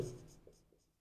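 Chalk or marker strokes on a board during a history lecture, a few short scratchy strokes close by, faint and alone with no talk.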